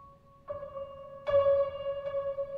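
Alicia's Keys electric piano processed with envelope phaser, delay and reverb, playing sustained chords that enter in two clear stages and ring on with a shimmering, washy tail, heard alone without voices.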